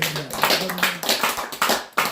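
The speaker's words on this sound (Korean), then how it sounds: "박수 쳐." An audience at a training course opening ceremony applauds a guest, giving a quick, irregular patter of claps that sounds near and moderately loud, with no talking over it.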